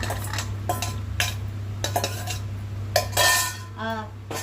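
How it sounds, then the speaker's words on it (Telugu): Boiled mixed vegetables with salt, chili and masala are stirred in a pot for a restaurant-style curry, a spoon scraping and clinking against the metal several times over a steady low hum. "సరే బాగా కలపాలి, దానికి ఉప్పు కారం మసాలా అన్నీ వెజిటేబుల్ పట్టేలా బాగా కలుపుకోవాలి"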